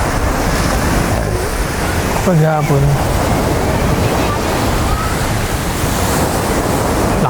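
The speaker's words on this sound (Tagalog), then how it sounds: "Lakas ng alon." Strong ocean waves roar steadily on Pagudpud beach in Ilocos Norte in the late afternoon, a loud, dense wash of surf mixed with wind buffeting the microphone and a brief spoken word.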